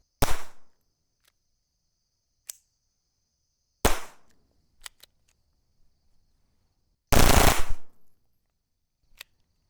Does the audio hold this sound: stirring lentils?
no